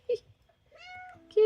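A pet cat meows indoors, a short chirp followed by two drawn-out meows, the last loud and close, with a person speaking softly in between.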